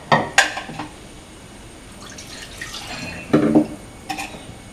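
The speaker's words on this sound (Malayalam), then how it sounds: "ഇനി ഇതിൽ സ്വല്പം വെള്ളം ഒഴിച്ച് നമുക്ക് ഇതിലേക്ക് ഇടാം." Water is poured into a pressure cooker of mutton and masala, with a few splashes and drips and some clinks of the vessel against quiet kitchen background.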